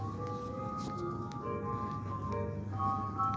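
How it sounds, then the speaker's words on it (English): A normal neighborhood ice cream truck plays its tinny melodic jingle from a moderate distance, the tune steady and slightly thin over faint outdoor background noise. "just a normal ice cream truck."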